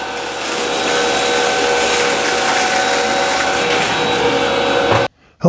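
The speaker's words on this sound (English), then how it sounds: "Today I'm going to do a quick review on this Hoover WindTunnel all-terrain vacuum cleaner." A Hoover WindTunnel All-Terrain upright vacuum cleaner runs with a steady, loud motor whine and airflow roar that holds nearly constant, then cuts off abruptly near the end.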